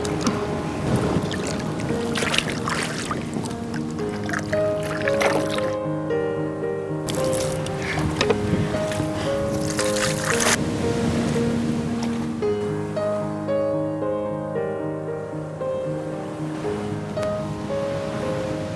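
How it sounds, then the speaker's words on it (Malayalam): Tapioca is washed by hand in water for cooking with chicken in a bamboo dish, producing continuous sloshing, squishing and dripping splashes up close, with faint musical tones running underneath. "ആദ്യം നീ വെള്ളത്തിൽ കഴുകി എടുത്തിട്ടേ നമുക്ക് നല്ല വെള്ളത്തിൽ പിന്നെ കഴുകാം."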